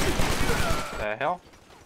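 Bursts of automatic gunfire rattle loudly in Stranglehold as bullets pour into an enemy, followed by a brief shout, with the shooting cutting off abruptly.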